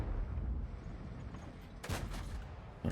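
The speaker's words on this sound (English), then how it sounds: "okay, this shot bounced" A tank shell striking and glancing off armor in World of Tanks: a sudden loud broadband crack near the end of a steady low engine rumble, followed by a brief ringing tail.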